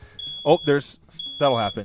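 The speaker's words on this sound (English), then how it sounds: "sorry, that was a fire alarm" A smoke detector gives two piercing high beeps, each about a second long, sounding over close conversational talk between people.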